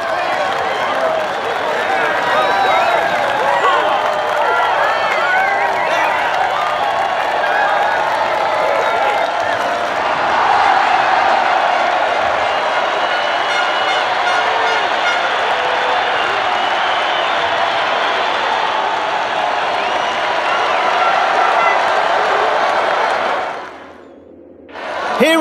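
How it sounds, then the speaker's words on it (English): Crowd of team members and fans cheering and applauding riders after a MotoGP 20 race at the Circuit of the Americas, a steady loud wash of claps and cheers that drops away briefly near the end. "Here are the stars of the day enjoying a round of applause from the team and fans"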